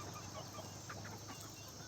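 Free-range desi chickens and their young chicks cluck softly and steadily on a farm. The sound is faint and continuous, with a few slightly louder clucks rising midway and no voices.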